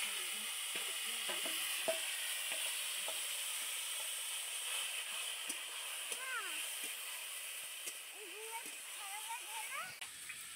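Raw mango coated with batasa cooks in a hot kadai, a soft continuous sizzle with occasional stirring taps, while a faint voice speaks in the background.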